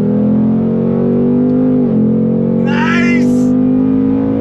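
A 2022 Ford Mustang Mach 1 V8 pulls hard from a roll, a loud, steady engine drone close in cabin with a brief dip as it shifts, then climbs again while an occupant speaks briefly.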